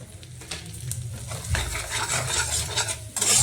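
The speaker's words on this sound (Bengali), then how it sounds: "হালকা করে ভেজে নেব" Dates, almonds and raisins being lightly fried in a pan, a soft sizzle under scraping and stirring strokes of a utensil against the metal, with a louder clatter near the end.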